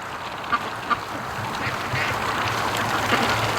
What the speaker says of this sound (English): There's 2 ducks.